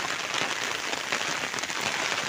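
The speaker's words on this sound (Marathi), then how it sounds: "पाऊस बघा कसला आलाय" Heavy monsoon rain pours down in a dense, steady roar, loud and close, with no voices over it.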